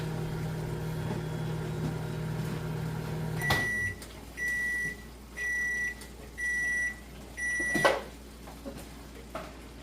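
A microwave cooking potatoes hums, then stops with a click and gives four evenly spaced, clear beeps, followed by a door clunk.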